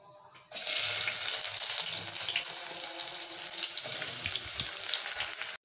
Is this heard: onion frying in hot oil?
yes